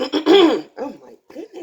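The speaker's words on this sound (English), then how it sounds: "I keep having to clear my throat." A short, rough throat-clearing sound, close and loud, followed by brief spoken words.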